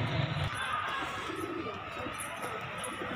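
Wild pigeons coo softly in a rooftop coop, low murmuring calls near and faint, with a brief thump at the start and faint background hum.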